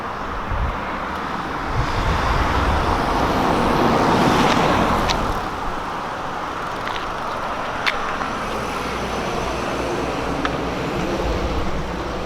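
Cars pass along a road in a steady, fairly loud traffic roar that swells around the middle and then settles, with no voices over it.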